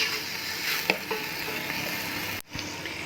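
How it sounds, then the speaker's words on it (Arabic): Butter melts and sizzles in a pan with onion, a steady close hiss with a few light clinks of stirring. It dips sharply near the end, then resumes. "يا دوب بس الزبده بس تسيح معايا كده اهو"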